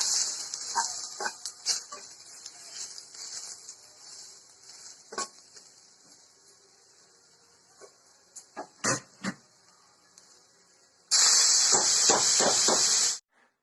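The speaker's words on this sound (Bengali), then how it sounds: "এটা মুলো শাক ভাজা" Radish greens fry in a pan with ginger and dried chilli, giving a steady close hiss and sizzle punctuated by scattered clinks and taps, then a louder burst of sizzling near the end.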